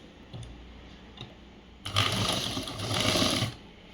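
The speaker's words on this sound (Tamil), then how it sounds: "இப்போ அடி மடித்து தைச்சிடலாம்." A sewing machine stitches the folded hem of a school uniform shirt, a steady close whirring run of about a second and a half rising out of quiet room hiss, with no talking.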